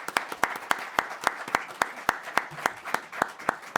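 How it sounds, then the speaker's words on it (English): A small audience applauds at a public hearing of the New York State Community Commission on Reparations Remedies in Utica. Sharp, distinct claps fall in a fairly regular rhythm, giving a sparse, close-sounding round of applause with no talk over it. "let's give her a round of applause"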